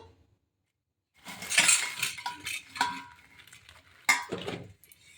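Dahi bara batter being whisked in a bowl, giving close, irregular scraping and clinking of a utensil against the bowl, with sharper clinks partway through after a brief silent start.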